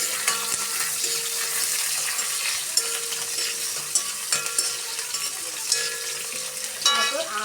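Ground shallots stir-fried with jackfruit in a pan: a loud, steady sizzle up close, with repeated scraping and clinking of a spoon against the pan and a busier stir at the end.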